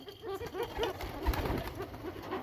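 Pigeons on a pigeon farm coo in a steady run of soft, throaty calls that overlap close by, with no talking.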